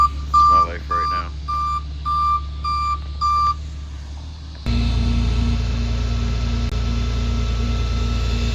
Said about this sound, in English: Here comes the tow truck driver.